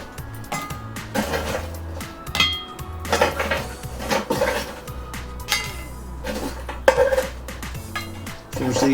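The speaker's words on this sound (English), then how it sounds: "And we're going to load these coals onto the lid." Hot coals are loaded onto the cast iron lid of a Dutch oven holding a chicken tray bake: scattered metallic clinks, scrapes and clatters, close and moderately loud, arriving in irregular bursts.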